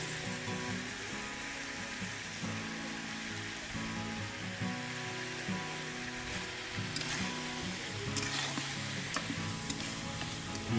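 Duck curry masala roasting in a hot pan, a steady dense sizzle with frequent scraping stirs of a spoon against the metal, continuous and close throughout.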